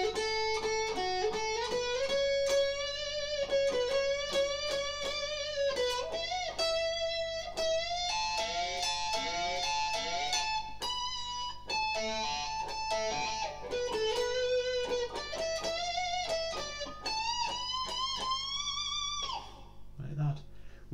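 Electric guitar solo phrase, played with sustained, singing string bends that slide up in pitch across a continuous melodic run, loud and upfront with no talking.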